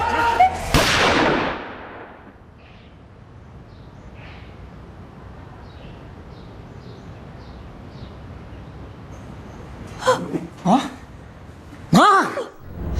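A sharp, loud gunshot at the start rings out and decays, followed by quieter ambience and a few more sharp cracks near the end, in a crime drama scene.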